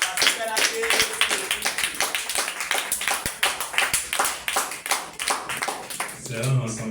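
A church congregation at a New Year gathering claps in rhythmic, unison beats that fill the hall for several seconds, with voices murmuring and calling out underneath.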